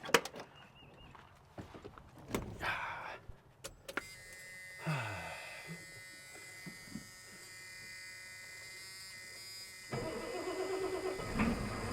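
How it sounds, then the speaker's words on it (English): Clicks and clunks, then the diesel engine of a 1989 Ford F-250 cranks and catches, settling into a steady, low idle that rumbles on for several seconds. "Start this bad boy up. Let her run for a second, just because I love to hear it."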